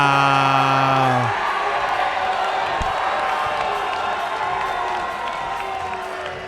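A fight-night crowd at an MCFC event in Rochester cheers and roars, a dense wash of voices that swells at first, then slowly tapers while staying loud.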